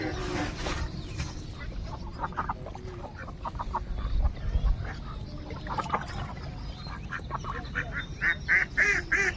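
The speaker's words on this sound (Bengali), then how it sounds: "হাঁসগুলো পালিয়ে যাচ্ছে ভয়তে ওরা মানুষ দেখে ভয় পাচ্ছে" Ducks on a lake quack and honk in scattered calls during a boat ride, some loud and close, with a louder burst near the end, over water and boat noise, and people talking among the calls.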